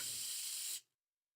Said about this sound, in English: he's getting the spray paint again